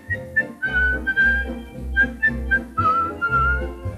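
A melody is whistled in a 1950 Danish song, with bright sustained whistled notes and short phrases over a steady, bouncy low accompaniment with regular beats.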